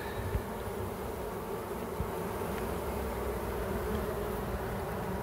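Honeybees swarm around a relocated beehive, their dense buzzing forming a steady, close hum that fills the whole stretch without pause.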